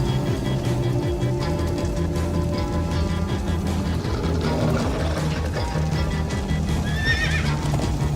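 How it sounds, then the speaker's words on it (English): Horse galloping with repeated neighs and whinnies in the Minecraft Story Mode video game, a continuous busy game mix of hoofbeats and background music, with a high whinny near the end. "Slow down, horse!"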